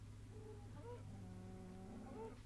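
Cows in the video game Minecraft moo faintly a few times in a quiet, steady game background, with no talking over them.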